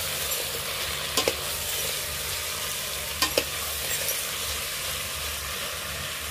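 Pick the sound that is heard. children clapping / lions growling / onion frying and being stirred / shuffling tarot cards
onion frying and being stirred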